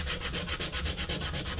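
Grinding a Damascus steel knife blade, a K-tip gyuto, to form the bevel after heat treating: a steady abrasive rasp with a regular pulsing rhythm from the passes, close and continuous, with no talk.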